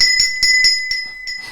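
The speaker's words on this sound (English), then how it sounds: "Ring the bell. Ring the bell." A bell rings in a quick series of bright, sustained strikes, about six clear dings that overlap and ring on close and loud.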